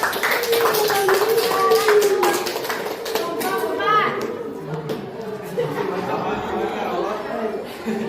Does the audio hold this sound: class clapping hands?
yes